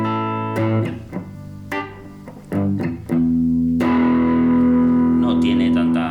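A Harley Benton Tube 15 valve guitar amp head, running at one watt with a swapped V1 gain valve, gives distorted guitar: a few separate picked notes, then one thick chord that rings on loud and sustained.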